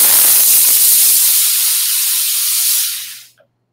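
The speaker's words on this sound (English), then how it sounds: "as you can see, it's a very powerful steam." A Laurastar ironing system lets out a powerful, loud blast of steam, a dense hiss lasting about three seconds that fades quickly to silence.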